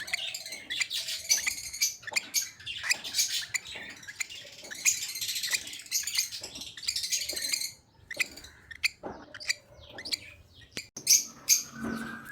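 Pet lovebirds in a cage give off a steady run of quick, bright chirps and tweets, some overlapping, close by and fairly loud throughout, with no talking.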